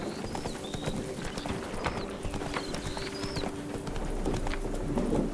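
Roach, a horse in The Witcher 3, clip-clops along at a steady rhythmic gait, hooves thudding continuously over a busy game soundscape of ambient tones and short chirps, with no talk heard.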